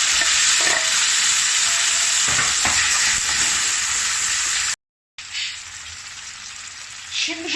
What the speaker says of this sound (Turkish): Aynı tavaya şimdi domateslerimi atıyorum